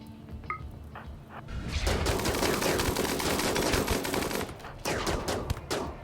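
Gunfire in RimWorld: a few isolated shots give way to sustained rapid bursts of automatic fire, loud and dense for several seconds, then tapering into scattered sharp cracks near the end.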